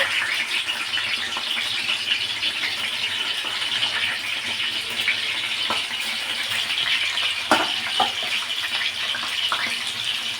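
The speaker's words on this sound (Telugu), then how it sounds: "ఆయిల్ వేడెక్కిన తర్వాత నేను ఉల్లిపాయలు అవి వేపుకుంటాను" Onions fry in hot oil for a spinach and mango chicken curry, giving a steady close-up sizzle and crackle with occasional small sharp pops throughout.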